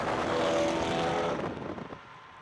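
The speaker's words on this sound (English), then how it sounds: "that car is way too loud" A loud B8 Audi A4 engine roars with a raspy exhaust, strong at first and then easing off as the revs drop near the end.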